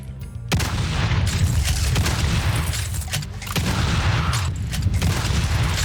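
Shotgun blasts in the video game Doom: a loud burst opens the clip and more heavy booms follow at irregular intervals, with a dense, roaring game soundscape in between.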